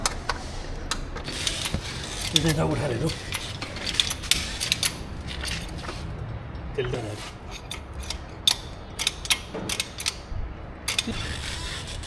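A wrench tightens the upper suspension bolts on a VW Tiguan being lifted for off-road use, giving repeated sharp metallic clicks and ratcheting bursts, fairly close, with workshop clatter in the background.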